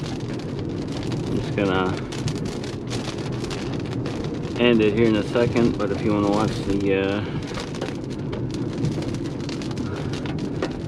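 Steady rain pours during a night lightning storm at a dumpster, with broadband hiss and rumble throughout while someone talks over it in several stretches.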